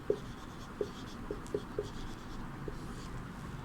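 Chalk or marker writing on a classroom board during a Hindi lesson, a handful of short faint taps and scratches spaced irregularly in a quiet room.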